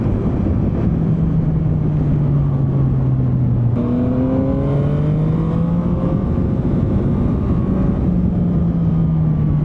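A Yamaha MT-09 motorcycle engine pulls hard in first gear while riding, its loud tone climbing and dropping through the revs amid constant wind rush.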